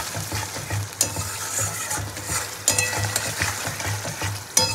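Masala paste stir-fried in mustard oil for a gati kochu (taro) dal cooks with a steady, close sizzle. Sharp scraping clicks from stirring break through at intervals, and no one speaks.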